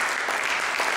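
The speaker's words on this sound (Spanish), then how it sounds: "Vamos a darle al Señor un aplauso por el calor que siempre en esta mañana, con su presencia." A church congregation claps in applause during a Sunday morning service, a brief burst of dense, even clapping at fairly close range.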